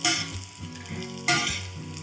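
Edible gum (dink) frying in hot homemade ghee in a pan, a steady close sizzle with bubbling crackle and stirring scrapes, swelling louder midway.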